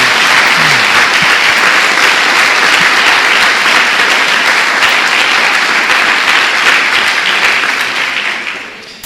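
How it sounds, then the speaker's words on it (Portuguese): A church congregation breaks into loud, sustained applause during a sermon, a dense wash of clapping that stays steady for about nine seconds before starting to fade at the end. "Dê uma salva de palmas a Jesus."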